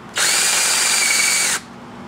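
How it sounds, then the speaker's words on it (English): A power drill fitted with a socket attachment runs steadily for about a second and a half at close range, then stops abruptly. "you can use a drill with a socket attachment"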